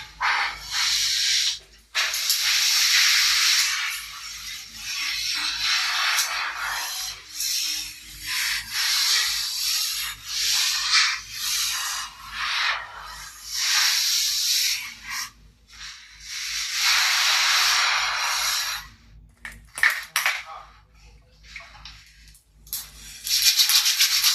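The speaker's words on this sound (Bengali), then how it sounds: "চলুন ঘরটা পুছে নিই এবারে" A cloth wipes and mops a room floor in a home, producing close, steady rubbing strokes that run almost continuously with brief pauses, loud and alone with no talking.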